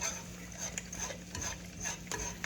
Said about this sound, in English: So just break it up with your whisk.